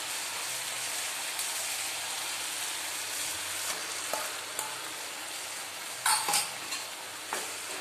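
Bottle gourd pieces fry in an oily spice masala, a soft continuous sizzle with occasional spatula scrapes and a cluster of sharper clatters as the pan is stirred.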